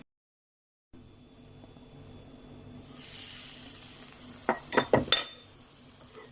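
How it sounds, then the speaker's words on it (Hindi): A spatula scrapes and clinks against a pan while chicken schezwan fried rice is gently mixed, quiet at first, then a soft hiss swelling and a few sharp metallic taps near the end. "अब इसे हल्के हाथ से इसको मिक्स करना है, नहीं तो चावल क्या होता है, चावल पूरा टूट जाता है।"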